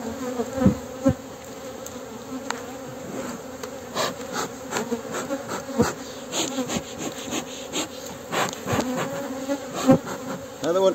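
Honeybees buzz steadily around a hive frame holding honey, pollen and empty hexagonal cells, a dense close insect drone with brief louder swells and light knocks, with no talking.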